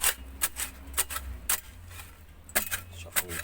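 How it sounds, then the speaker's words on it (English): Soil being shuffled by hand in a snail pen after the topsoil is removed, heard as a series of short, sharp scratchy crunches at an irregular pace, close and fairly quiet over a low hum. "you just shuffle the soil a little"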